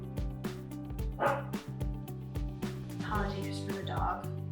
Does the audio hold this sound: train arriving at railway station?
no